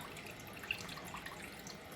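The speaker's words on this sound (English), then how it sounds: "I'm gonna turn on the water and let it run a little bit to fill it up" Water runs steadily through the filter cartridge of an Aquatonic AQ 500 water ionizer, making a continuous, even trickling hiss with no talking.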